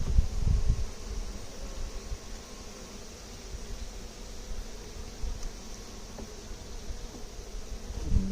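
Bees clumping and chaining together on a hive frame as they build comb, a steady soft buzzing hum close by throughout, with a few louder handling thumps at the start and no talk.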